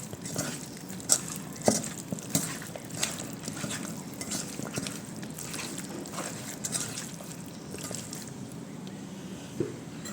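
Chili powder and tomato sauce being mixed into raw chicken pieces for Bangladeshi crispy fried chicken, with soft wet squelching and scraping strokes repeating steadily at close range, a few sharper clicks standing out.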